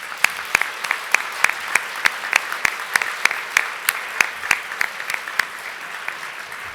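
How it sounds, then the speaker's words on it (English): Audience applause at a formal awards event honoring chief executive officers, steady dense clapping from a crowd with sharp individual claps standing out, moderately loud throughout. "Please join me in a round of applause"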